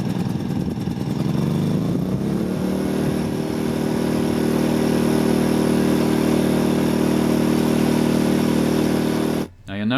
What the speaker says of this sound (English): After about 30 seconds of running it on choke, you can turn the knob to run.